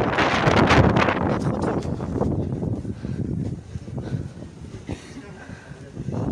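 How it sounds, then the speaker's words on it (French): Wind gusts buffet the microphone outdoors at a street gathering, a loud rough low roar that surges and eases in waves, with people talking over it. "il y a trop de vent"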